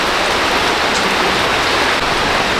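Steady rain falls close by for nearly three seconds, a dense, even hiss of drops hitting surfaces with no break and no voices.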